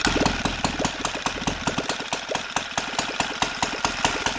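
Close, loud OS FT 300 model engine converted to gasoline with CH ignition, idling around 1400 RPM with a steady, rapid, slightly uneven popping beat and no talk.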